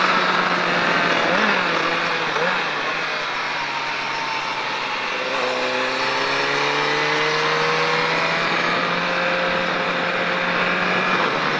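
A Triumph Daytona 675 motorcycle accelerates hard around the La Ferté-Gaucher circuit, its engine note climbing steadily in rising harmonic sweeps that shift pitch partway through, loud and continuous with wind noise throughout.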